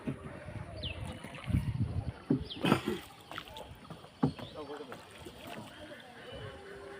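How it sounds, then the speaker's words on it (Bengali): A wooden country boat being rowed on a river, with low watery sloshes and splashes from the oars, quiet and close, while people talk over it. "নৌকা চালাইতে পারেন ভাই"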